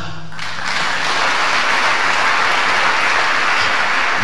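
Sustained, dense applause from a church audience cheering a female singer, loud and steady throughout with no gaps, crowd close and filling the space.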